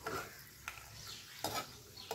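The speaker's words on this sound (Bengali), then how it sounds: "বেশ খানিকটা বাদাম আমি এই তেলেই ভেজে নিচ্ছি একবারে।" Peanuts frying in a pan of oil with steady low sizzle, stirred with a utensil that gives several sharp scraping clicks spaced about once every half second or so, fairly quiet overall.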